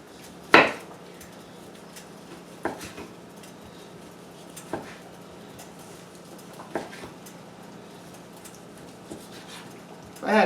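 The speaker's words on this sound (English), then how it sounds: "From there I'm going to go ahead and slice up my meat." A knife cuts through leftover roast pork on a board in a home kitchen, giving about six sharp, separate knocks spread across the stretch over a faint steady background hum.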